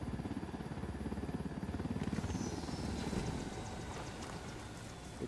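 A helicopter in Ghost Recon Wildlands sets down for a landing: a steady, loud rotor thump with a whining engine that eases slightly as it settles, with no talk.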